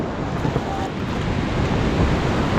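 Rushing river rapids on the Ganges at Rishikesh during a rafting run, a loud, steady roar of churning whitewater with wind buffeting the microphone.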